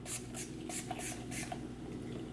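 A perfume spray bottle releases a very fine mist in several quick hissing bursts, evenly spaced and close by, with no talking.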